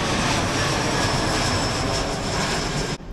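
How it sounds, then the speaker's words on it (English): An airplane flying overhead at night makes a loud, continuous engine roar that holds steady and then cuts off abruptly near the end. "every time there's an airplane"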